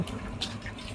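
A short, soft splash of water is poured over tamarind pulp in a home kitchen, a brief trickling pour heard alone.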